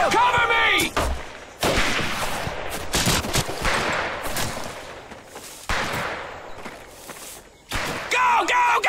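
WWII video game firefight with bursts of rifle and machine-gun fire in rapid, dense volleys broken by short pauses, loud and close, with shouted voices between the shots.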